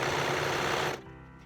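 A sewing machine stitches a hem in a fast, even buzzing run for about a second, then stops abruptly, leaving a quiet room tone.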